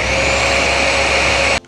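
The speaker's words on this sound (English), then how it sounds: "To start the vacuum, you press on this." A Jimmy BX8 mattress vacuum cleaner runs loud and close with a steady high whine and airflow roar, then cuts off abruptly near the end.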